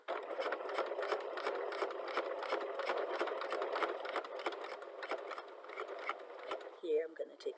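Sewing machine stitching fabric pieces for a multicolored patchwork handbag, a steady close whirring run that slows and stops near the end.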